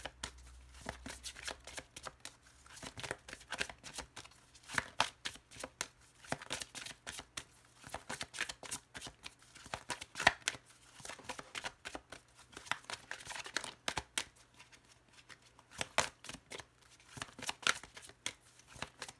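A tarot deck being shuffled by hand at close range: rapid, irregular bursts of riffling and card slaps repeating over and over, crisp and fairly quiet with brief pauses between runs.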